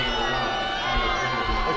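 Basketball crowd at Carver Gym reacting to a foul call during a men's college game, a loud sustained roar of voices with shouts and whoops, steady and close, filling the whole moment.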